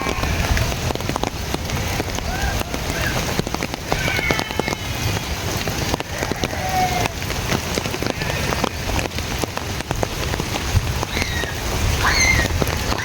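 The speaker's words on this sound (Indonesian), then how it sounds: "suasana kampung Cariu saat turun hujan" Steady rain falling over a foggy village, a dense continuous patter of drops on roofs and surfaces with scattered louder splashes, no voices.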